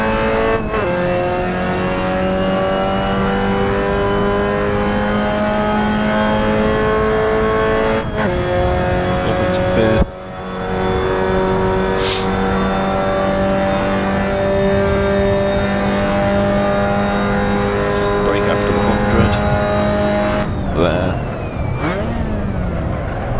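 A Clio Cup race car in a racing video game revs hard and steadily through the gears, its engine note climbing and shifting at each change, with a brief squeal of tyres and no voices over it.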